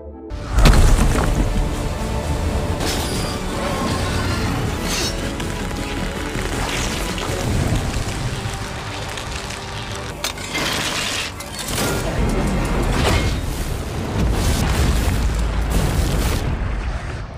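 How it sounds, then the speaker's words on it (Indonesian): Loud, continuous barrage of booms and blasts, with sharp bursts of gunfire and explosions overlapping throughout, dense and chaotic without a pause. "dengan tembakan dan ledakan bertubi-tubi"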